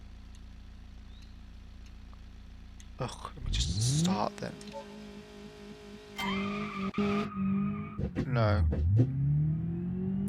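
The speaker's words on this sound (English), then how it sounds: "No, that's not a diesel. It's just a clattery old engine." A clattery old engine in a base-model Renault 21 saloon in the BeamNG.drive driving game cranks and starts, then idles roughly and revs up and down with tire squeal. A person talks briefly over it.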